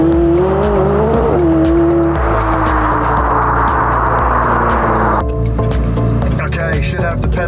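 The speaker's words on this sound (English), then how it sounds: "we're going to have to go for a little drive" A McLaren 570S drives with a steady engine hum and tyre roar throughout, with occasional revs and tyre noise, heard from inside the car while a person talks over it.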